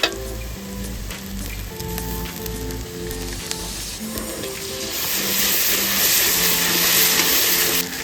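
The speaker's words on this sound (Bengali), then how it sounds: "আদাটা এখন ভালো করে ভাজা চলছে" Ginger paste fries in hot oil in a pan, a continuous close sizzle that crackles steadily and grows louder and more hissing toward the end, with faint clinks and a low hum underneath.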